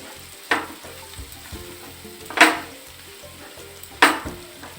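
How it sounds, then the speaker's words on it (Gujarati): Onions sautéing in oil with asafoetida and turmeric produce a low steady sizzle, broken by three sharp scraping stirs of a spoon across the pan, close and without talk. "હવે ડુંગળીમાં રતાશ જેવો કલર આવી જાય ને ત્યાં સુધી આપણે તેને સોતે કરી લઈશું."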